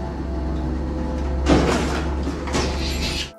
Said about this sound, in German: Wie ihr gesehen habt, klappte der Stuhl hinter ihm einfach auf.